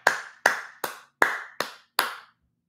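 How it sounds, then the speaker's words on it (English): On a live sports talk show, a single person claps their hands six times in sharp, evenly spaced smacks, close and distinct, followed by brief silence. "I am applauding CeeDee Lamb"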